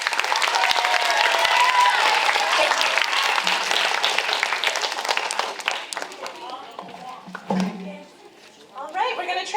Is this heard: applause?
yes